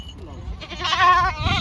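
A goat lets out a loud, wavering bleat close by, preceded by softer animal noises and low background sounds.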